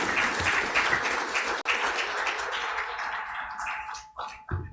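Audience applause fills the hall at the 2025 Financial Inclusion Forum hosted by the Bank of Uganda, a dense, steady clatter of many hands that thins briefly near the end before swelling again.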